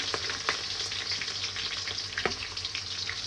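Onion and green chili frying in a pan with mustard seeds and curry leaves, a bright continuous sizzle with a few stirring scrapes, close and alone.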